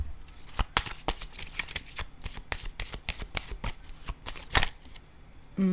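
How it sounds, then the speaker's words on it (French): Tarot cards shuffled and laid down on a table, a close run of crisp paper flicks and slaps in uneven bursts, fairly quiet with no talk over it. "Je vais déposer une carte rose"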